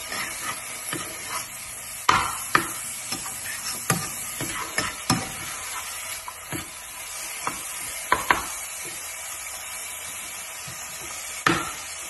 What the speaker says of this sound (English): We're going to stir everything together until it's well blended.